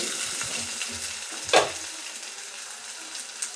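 Ginger paste, freshly pounded in a stone mortar, sizzles faintly in a pan for a chicken curry, with one sharp stir or scrape in the middle and soft frying hiss underneath.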